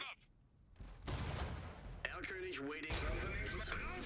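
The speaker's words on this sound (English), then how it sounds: "Though the mortars keep it covered." Explosive mortar fire in the strategy game Iron Harvest: booming artillery bursts and battlefield rumble running under continuous commentary.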